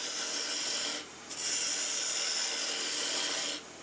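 A chisel or rasp pares a shallow wooden tenon barely an eighth of an inch deep, a steady close scraping rasp with two short pauses, no talking.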